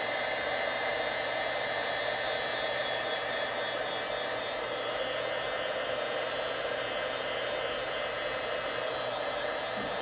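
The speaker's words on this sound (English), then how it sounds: "I love heat embossing." Steady, loud whoosh of a heat embossing tool blowing hot air over embossing powder on a card, a continuous broadband rush with a faint motor whine, unbroken for ten seconds with no voices.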